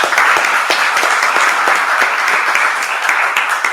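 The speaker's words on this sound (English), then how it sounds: "here is a round of applause to everyone that contributes to sustainability" An audience at a closing ceremony applauds in a loud, sustained, even wash of clapping that fills the whole moment without letting up.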